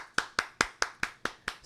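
Seven sharp, evenly spaced hand claps ring out close and alone, each with a quick decay, on a morning talk show.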